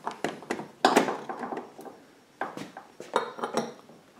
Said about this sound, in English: Taking a 16 millimeter deep well socket, putting it over the hose barb